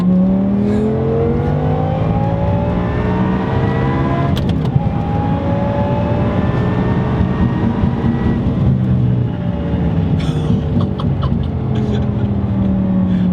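A manual supercharged Audi R8 engine pulls hard in third gear with a loud, rising drone heard from inside the car, followed by a brief dip as revs drop and a second climb.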